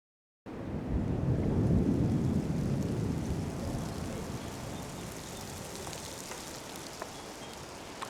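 A thunderstorm opens with a heavy rumble of thunder that rolls and fades into a steady wash of falling rain, with a few faint drips near the end.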